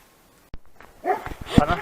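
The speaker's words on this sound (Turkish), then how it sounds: "Burası köpek bölgesi arkadaşlar. Köpekler karşılamaya başladı." Dogs barking and yipping at a runner on a trail, a couple of sharp barks close by after a moment of quiet, followed by a cluster of louder overlapping barks and whines.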